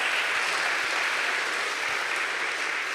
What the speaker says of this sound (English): Whoever thought we'd be cheering for Nebraska right here?